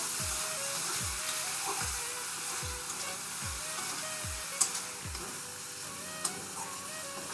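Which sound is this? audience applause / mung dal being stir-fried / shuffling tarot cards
mung dal being stir-fried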